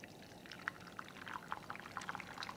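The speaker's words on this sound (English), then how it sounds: "Now, pour the eggs in to the hot pan," Beaten eggs pour into a hot omelette pan, a soft wet pouring with small sizzling crackles and splats, quiet and close, with no talk.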